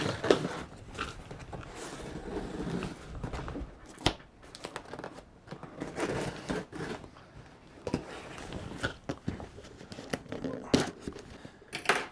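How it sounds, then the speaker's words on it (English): Scissors cutting into and tearing open the packaging of a budget electric guitar, heard as uneven close snips, rips and crinkling cardboard or plastic, with soft handling noise throughout. "So I don't know what happened to my knife. I'll use scissors."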